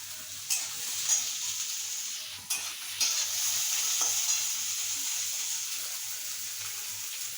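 Carrots and beans fry in a pan for poha pulao, a close, continuous sizzle with a few stirring knocks near the start.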